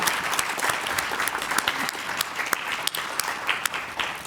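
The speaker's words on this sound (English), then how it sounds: "another round of applause" Steady audience applause after a keynote at a university research day, dense and sustained clapping from a seated crowd throughout with no voices over it.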